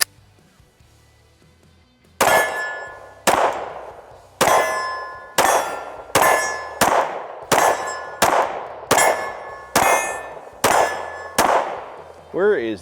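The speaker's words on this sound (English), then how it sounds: "Let's pump those 200 rounds and break this pistol in." A Shadow Systems CR920P pistol fires about eleven sharp, loud reports, spaced roughly one second apart after a quiet start, each followed by a short ringing decay.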